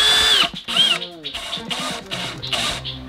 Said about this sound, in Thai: เพราะฉะนั้นอันนี้นะครับเรายังต้องเบามือเหมือนเดิมครับสำหรับการเจาะฝ้านะฮะ